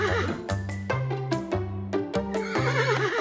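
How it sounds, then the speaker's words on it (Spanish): A horse gives a loud, shaky whinny near the end, set over cheerful plucked music with a steady rhythm. "Este es... el caballo"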